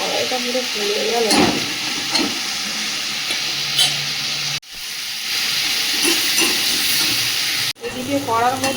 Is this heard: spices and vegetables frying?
yes